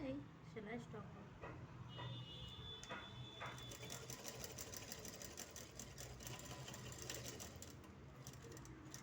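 Continuous rapid whirring of a sewing machine stitching fabric, faint and fairly close, with a voice speaking over it.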